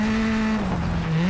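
Skoda Fabia Rally 2 engine in WRC 10 holding a loud steady note and then dipping as it brakes, close and continuous with a tonal squeal over it and no talk.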